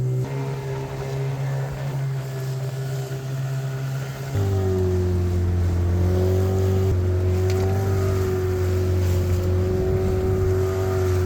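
A boat's outboard engine, fresh from new spark plugs, impeller and gearbox oil, drones steadily at close range at sea, its pitch rising partway through and then holding at a louder, constant hum.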